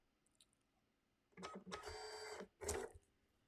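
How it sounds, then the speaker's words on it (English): A label printer prints a label from a roll, giving a near mechanical whir of about a second, followed by a short, sharper feed or cutting sound, in a quiet room. "I have a label printer right over here."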